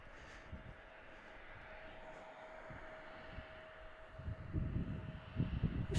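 An airplane taxiing at Chicago O'Hare airport makes a low, distant engine rumble with a faint steady hum, then swells louder and rougher over the last couple of seconds.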